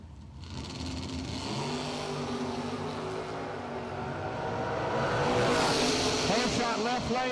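A Chevrolet Vega drag race car's engine drones close by at a drag strip, steady at first and then swelling louder as it revs, with a voice faintly present underneath.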